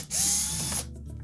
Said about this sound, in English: we're next going to remove the screws that secure the control panel to the main top